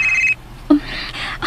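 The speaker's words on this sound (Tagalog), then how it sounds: "Ang akong cellphone. Kinsa makain nanawag." A cellphone rings with an incoming call: a steady electronic tone cuts off abruptly, then a short beep follows, all close and fairly loud with no talk over it.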